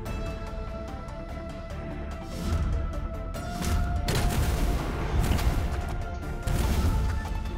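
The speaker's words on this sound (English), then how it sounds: "I'm just gonna fire right here." Game gunfire in Anomaly Collapse: dense, continuous shooting and impact crashes that grow louder midway, with sharp bursts layered over a steady mechanical hum.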